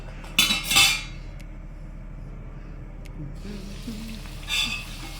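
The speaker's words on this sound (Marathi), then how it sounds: "एक एक पुरी तळून घ्यायचं." Pooris deep-frying in hot oil: two loud bursts of bubbling crackle with clinks of a metal ladle, separated by a quieter stretch of low simmering.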